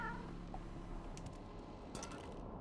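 A cat character in a video game lets out a few quiet meows over a low mechanical whirring background, soft and spaced apart.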